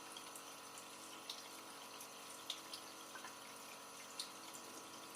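A steady, even rush of flowing water with a faint mechanical hum underneath, continuous throughout with a few small drips and splashes.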